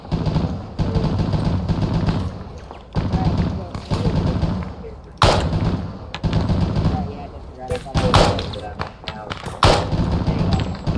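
Gunfire in Arma 3 during a USMC mounted patrol firefight: repeated bursts of automatic weapons fire and sharp shots come in clusters over about eleven seconds, with voices talking between and over the shooting.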